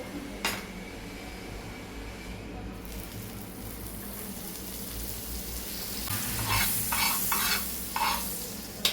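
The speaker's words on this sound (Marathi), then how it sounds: "तिथे तवा गरम झालेला आहे आपण थोडस बटर टाकून घेऊ" Butter gives a steady sizzling hiss on a hot griddle, close and moderate, with a few short scraping and clinking sounds toward the end.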